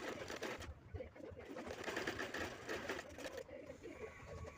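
A sewing machine stitches the folded hem of new palazzo pants, its steady mechanical chatter running continuously close by with brief pauses, no voices heard.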